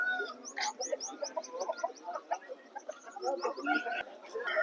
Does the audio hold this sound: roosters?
yes